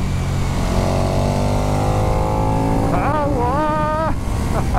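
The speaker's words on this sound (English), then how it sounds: "Beautiful engine braking as well." A KTM 1290 Super Duke EVO motorcycle engine winds down under engine braking, its loud, close exhaust note falling steadily in pitch, then blipping through quick downshifts, with wind rush throughout.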